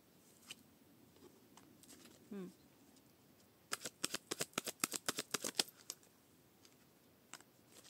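Tarot cards drawn and shuffled from a deck during a reading, a quick run of crisp close flicks and slaps in the middle, with scattered softer card rustles before and after in a quiet room.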